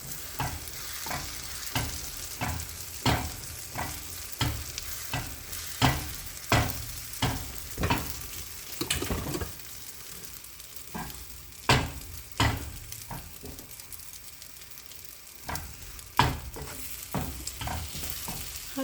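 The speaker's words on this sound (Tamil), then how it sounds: "ஸோ இப்போ இதை ஸ்க்ராம்பிள் பண்ணிடலாம்." Eggs mixed with green gram are scrambled in a pan over high flame, a steady sizzle broken by repeated sharp scrapes and taps of a spatula against the pan, no voices.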